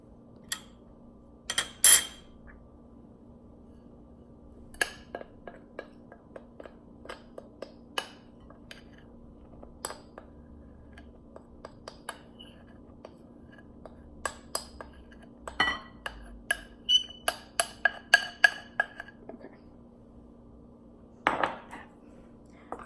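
Flour being stirred into a mixture in a bowl for a Ukrainian dessert, heard as scattered clinks and light scrapes of a utensil against the bowl, irregular and fairly close, with no talking.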